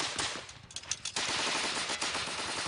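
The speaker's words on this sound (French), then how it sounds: "Les canons Gatling utilisés à cette époque avaient 10 en canon rotatif et pouvaient en tirer de 300 à 900 coups par minute" Rapid, continuous bursts of Gatling gun fire, a rotating multi-barrel weapon of the Spanish–American War era using Krag ammunition; loud, dense crackling volleys with a brief lull partway through, no voices.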